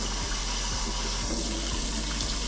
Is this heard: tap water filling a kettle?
yes